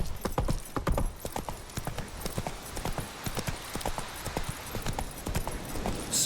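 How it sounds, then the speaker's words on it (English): Hooves of a galloping horse in the video game The Witcher 3 pound in a quick, steady clip-clop rhythm, close and prominent, with faint background noise. "it looks like he can really fly on this horse"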